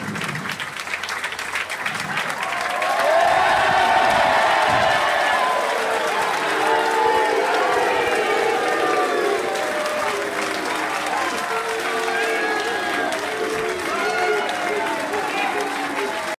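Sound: applause at a football signing presentation, mascot clapping

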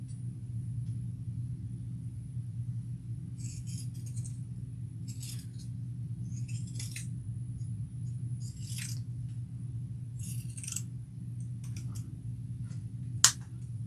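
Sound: pinking shears cutting fabric to trim seam bulk

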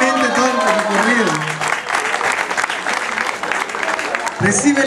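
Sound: crowd applause at medal ceremony

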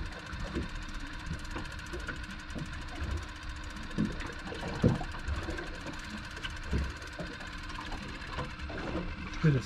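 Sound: fishing reel winding in line

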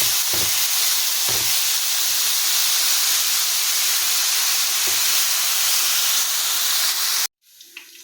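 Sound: lamb tail fat rendering and sizzling in pan while stirred

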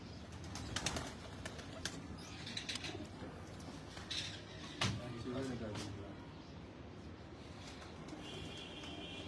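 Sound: pigeons

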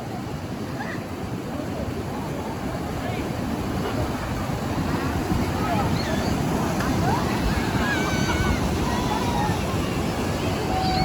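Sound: waterfall

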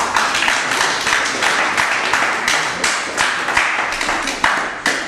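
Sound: audience applause at a boxing match

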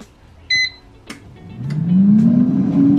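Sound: Proscenic T21 air fryer beeping as the menu is set

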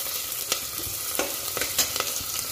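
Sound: onion and garlic frying in ghee

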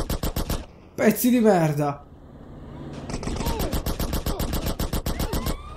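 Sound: gunfire in the video game GTA San Andreas

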